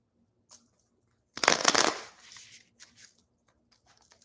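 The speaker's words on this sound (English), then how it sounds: "One more shuffle." A deck of tarot cards is shuffled close by in one quick riffle lasting about half a second, with a few soft taps and card flicks before and after.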